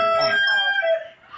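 A rooster crows nearby, one drawn-out call that trails off, with the low murmur of other hens underneath.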